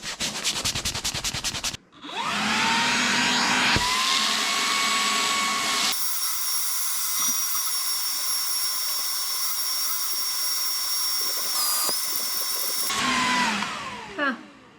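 A Ryobi 18V HP spot cleaner runs with its crevice tool fitted, a loud steady whine and rushing suction that shifts pitch partway through, close by, after a short burst of clatter at the start.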